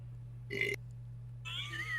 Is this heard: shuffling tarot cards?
no